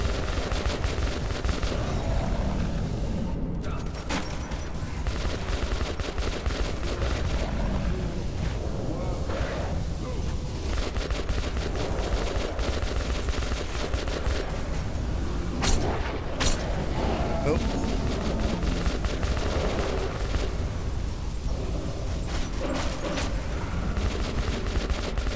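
Gunfire from a weapon in Metro 2033 Redux rattles in near-continuous bursts for the whole stretch, loud and dense, with a few heavier booms mixed in.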